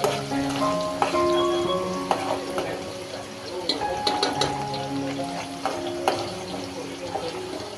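Onions frying in a pan until golden brown, a steady sizzle with repeated scrapes and clinks of a stirring spoon against the metal, close and busy throughout.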